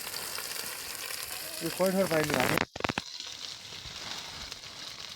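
Food fries in a pan at an outdoor Himalayan cooking spot, giving a steady, close sizzle while a voice talks over it, followed by a short clatter and a quieter sizzle.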